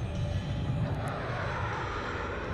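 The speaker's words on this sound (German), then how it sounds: "Ah, da ist noch ein Jet." A jet aircraft in the video game Battlefield 4 roars steadily and loudly throughout, a dense, unbroken engine rush with no talk over it.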